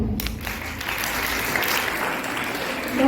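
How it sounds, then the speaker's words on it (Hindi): A roomful of people give the children a hearty round of applause, dense steady clapping that carries on evenly throughout. "तो सभी बच्चों के लिए जोरदार ताली।"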